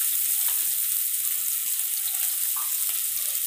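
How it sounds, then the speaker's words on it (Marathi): Finely chopped onion fries in hot oil with cumin, giving a steady, bright sizzling hiss with a few small pops, fairly close and uninterrupted. "व्यवस्थित गरम झालेलं आहे, त्याच्यामध्ये आपल्याला 1 कांदा घालायचा आहे"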